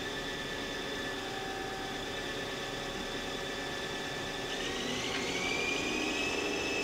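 A Haas SL-20 CNC lathe spindle spins up, a steady high mechanical whine with a broadband machine hum that rises in pitch near the end as the speed climbs, heard close and alone.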